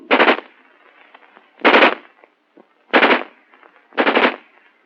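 An XM16E1 M16 5.56mm rifle fires four short bursts at roughly even intervals, each a loud, close rattle of rapid shots separated by brief quiet.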